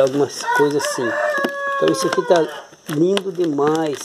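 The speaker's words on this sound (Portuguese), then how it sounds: "vocês estão ouvindo os galos cantando aí do lado" Roosters crow nearby on a rural property with pocan and Tahiti lime seedlings, long rising calls standing out clearly while someone talks over and between them.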